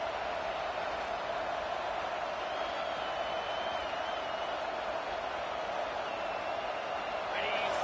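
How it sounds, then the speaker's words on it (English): A steady, dense roar of a large stadium crowd at an Alabama–Auburn football game fills the space continuously, loud and unbroken, with a swell near the end. "This crowd bringing the energy and noise early."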